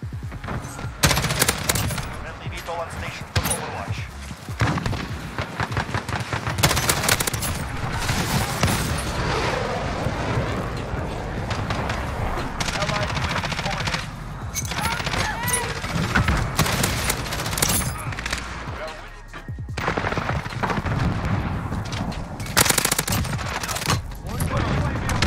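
Rapid gunfire in the Modern Warfare video game, dense bursts of shots and booms repeating across the whole stretch, loud and close, with a player talking over it at times.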